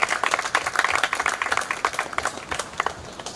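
A crowd applauds during a school welcome event for a visiting Barbados basketball team, with dense, lively clapping that comes in uneven surges and continues throughout.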